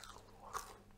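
A single crisp bite into hot homemade fries, northern French style, one short crunch, close and fairly quiet against low background noise.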